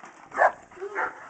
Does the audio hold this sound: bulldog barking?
yes